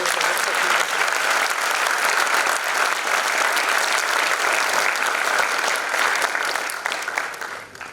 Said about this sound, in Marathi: याबद्दल एकदा जोरदार टाळ्या होऊन जाऊ.